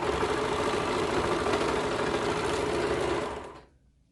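A sewing machine stitches the crotch seam of a child's sweater romper, humming steadily and close for about three and a half seconds before winding down and stopping, with no talking.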